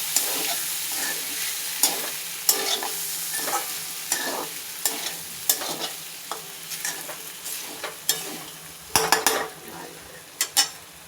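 Sabudana being stirred and fried in a pan on low heat for farali khichdi. A soft, steady sizzle runs under regular clinks and scrapes of a spoon against the pan, with a cluster of quicker knocks near the end. Heard close up, with no talking.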